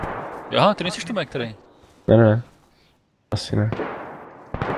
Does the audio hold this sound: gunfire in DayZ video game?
yes